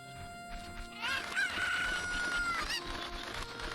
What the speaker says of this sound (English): Loud chicken!